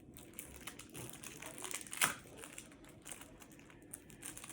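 Foil trading card pack torn open quickly, close crinkling and crackling wrapper with a sharper tear near the middle, fairly quiet and continuous.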